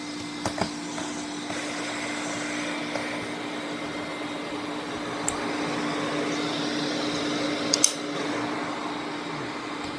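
Sebo Felix vacuum cleaner running with its parquet brush fitted, a steady motor drone and airy whoosh held constant, with a few faint clicks and light taps scattered across the run.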